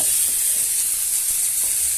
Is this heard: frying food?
yes